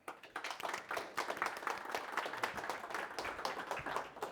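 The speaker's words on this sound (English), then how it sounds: "I ask you for a warm applause for our first speaker" Audience at an evening academic talk applauding a speaker as she is introduced, a crisp, lively patter of many clapping hands, close and fairly loud, swelling quickly and holding steady throughout.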